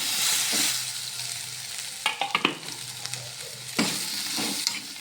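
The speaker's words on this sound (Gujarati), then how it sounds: "હવે આપણે એમાં બટાકા એડ કરી લઈશું બાફેલા।" Boiled potatoes are stirred into samosa filling frying in a pan, producing a continuous sizzle with several sharp spoon scrapes and clacks against the pan, close and clear, without voices.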